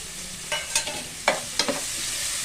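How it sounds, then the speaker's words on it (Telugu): Thinly sliced onion frying in a chicken pepper masala curry, a gentle background sizzle with a few sharp scraping stirs of a spoon in the pan, no voices present. "ఓకే, మంచి ఉల్లిపాయ ఫ్రై కానివ్వండి. ఒక 2 మినిట్స్ మంచిగా ఫ్రై చేద్దాము."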